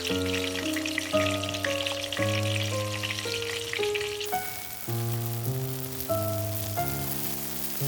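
Breaded pork cutlets for tonkatsu fry in a pan of oil, a steady bright sizzle running beneath louder background music with plucked melodic notes.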